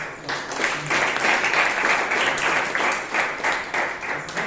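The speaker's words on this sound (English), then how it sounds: "Please have a round of applause." A Toastmasters meeting audience in Bangalore applauds steadily for several seconds, a dense wash of clapping hands that stays fairly even from start to finish.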